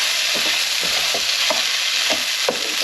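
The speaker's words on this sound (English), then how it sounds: "Now we put in the Orzo. Let that toast off just a little bit, it's like you would do a risotto." Orzo toasts in a hot pan, a constant close sizzle broken by regular scraping strokes of a spoon stirring about twice a second, with no voices.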